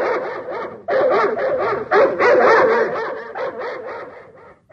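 Excited, whiny dog vocalizations close by, a run of yips and yelping barks that sounds like several dogs bunched together.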